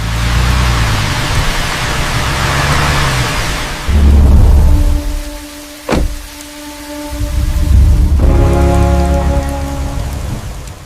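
Heavy rain pours down loudly in a steady wash, dropping away briefly mid-clip before returning, with a rumble of thunder in the mix.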